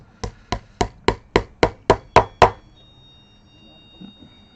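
A hammer drives a string ferrule into the body of a finished custom Telecaster guitar, nine even, sharp taps in steady rhythm, close and loud, followed by quiet.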